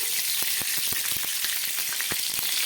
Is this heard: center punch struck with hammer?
no